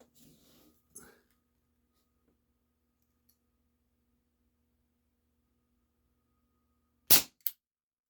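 A Cybergun Baby Eagle CO2 BB pistol fires one sharp, loud shot, then a quieter crack follows right after, coming at the end of a long quiet stretch that opens with faint low speech.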